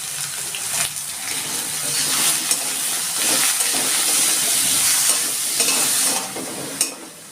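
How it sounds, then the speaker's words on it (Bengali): Small diced potato pieces seasoned with salt and turmeric sizzle steadily in hot oil, a continuous close, loud crackling hiss with stirring scrapes and no talk. "আলুটা আমি একটু ভেজে তুলে নিচ্ছি"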